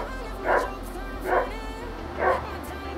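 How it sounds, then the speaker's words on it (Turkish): A dog barking outside the front door, three separate muffled barks spaced about a second apart, heard indoors over a low steady hum. "dışarıda bir köpek var. Kapının önünde hani sürekli bağırıyor ama neyi var neyi yok bilmiyorum."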